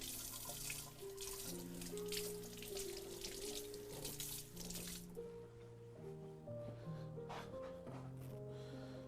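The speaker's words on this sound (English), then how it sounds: "I'm going to rinse off my blade and dry it off while everything's going on" Tap water runs into a sink as a knife blade is rinsed, a continuous splashing rush with faint clinks, while soft music plays underneath.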